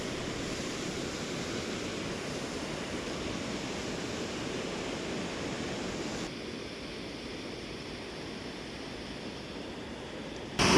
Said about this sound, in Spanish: acá el audio creo que no se va a escuchar bien por el quilombo que va a ser la cascada